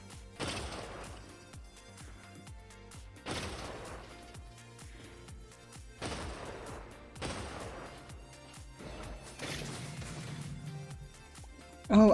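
Magic Missile spell casts in a modded Minecraft game, four sharp bursts roughly every three seconds, each a bright crackling blast that fades over a steady ambient bed.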